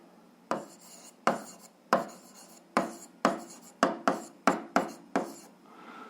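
A pen writes on paper in about ten short, scratchy strokes. Each burst starts sharply and fades, coming at an uneven pace and speeding up toward the end, close and quiet with no talk.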